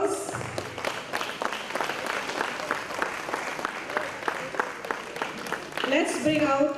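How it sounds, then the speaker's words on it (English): Applause from a school annual day audience, a steady burst of many hands clapping that fills the hall, with voices rising over it near the end. "A huge round of applause."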